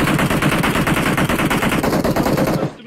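Rapid automatic gunfire in the shooter game PUBG Mobile, a loud, fast, unbroken burst of shots lasting nearly three seconds before cutting off abruptly.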